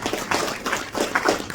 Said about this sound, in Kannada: ದಯವಿಟ್ಟು ಜೋರಾದ ಚಪ್ಪಾಳೆ ಬರಬೇಕು ಪ್ಲೀಸ್